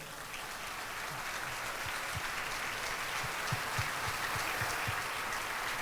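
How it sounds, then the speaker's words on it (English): A round of applause at a 2016 MLK banquet, steady clapping from a seated crowd at moderate distance, sustained evenly throughout with a few sharper claps standing out. "please stand for a round of applause and gratitude for your selflessness and untiring efforts"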